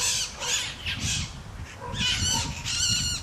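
Wild parrots in Pasadena give harsh, raucous squawks in a few repeated loud bursts, fairly close, with no talking.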